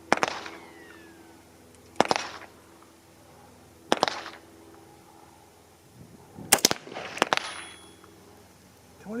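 A 6.5 Grendel rifle fires 90-grain Nosler Ballistic Tip rounds. Several sharp, loud cracks ring out at spaced intervals, and two come in quick succession near the end, each followed by a short fading echo.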